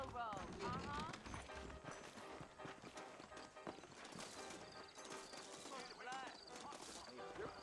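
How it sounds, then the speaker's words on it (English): Hooves clop along at a steady trot beneath voices talking, with a brief whinny and some faint background rattling, from Red Dead Redemption 2. "I got the horses saddled up and ready out front."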